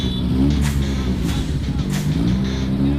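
A Lamborghini-lookalike car fitted with a Maruti 800 engine roars and revs, a loud, rough engine note that rises and falls over a few seconds, with a voice audible over it.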